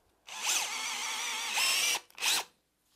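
A Bosch GSR 12V-35 FC cordless drill with an attachment bores into grade 50 concrete, whirring loudly in one long burst of about a second and a half, then a short final burst, up close.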